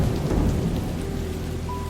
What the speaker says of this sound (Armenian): Դրսում անձրև էր տեղում։